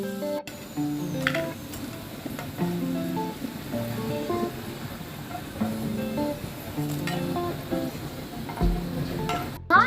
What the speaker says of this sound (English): After shallow frying these for 15 minutes, now these are almost done